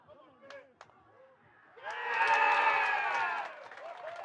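Stadium crowd at an Eagles versus Rams rugby league rivalry match, swelling into a loud cheer that holds for a moment and then fades, with commentators talking before and during it.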